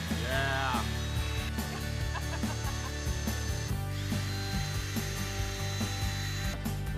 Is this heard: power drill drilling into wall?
yes